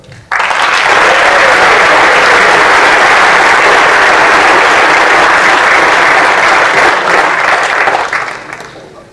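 Sustained loud applause from an audience at a high school fall sports awards ceremony honoring award recipients, dense clapping that runs steadily for several seconds before tapering off at the end.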